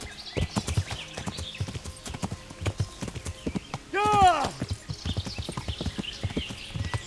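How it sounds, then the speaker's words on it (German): Horse hooves clip-clop in a steady rhythm while riding over uneven ground in the video game Kingdom Come: Deliverance, with a horse whinny midway and someone talking throughout. "Dann noch mit einem Pferd."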